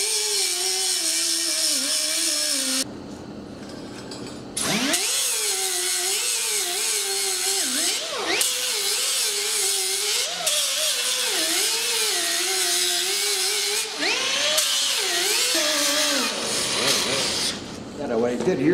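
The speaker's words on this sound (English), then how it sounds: "I just do my grinding over here in a corner" An angle grinder with an abrasive disc working on stubborn studs or bolts in a shop corner, a loud high whine that rises and falls with load, cutting out briefly twice, with someone talking over it.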